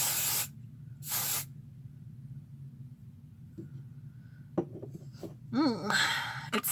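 Dry shampoo aerosol sprayed in two short, loud hissing bursts near the start, followed by quieter rustling, faint handling sounds and a few clicks.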